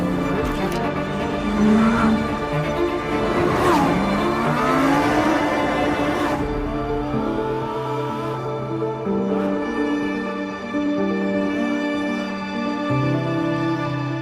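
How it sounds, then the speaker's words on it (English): A 2023 Lamborghini Huracán Sterrato drifts on gravel, its engine loud and close with rising and falling revs; a rough burst early on eases into a steadier, throbbing drone. "I feel like a child driving and drifting the Sterrato because it's so much fun"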